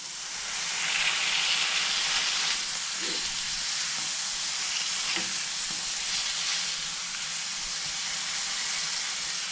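Hamburger patties sizzle on a cast iron griddle, a steady, close, loud frying hiss that runs unbroken throughout with faint crackles and pops.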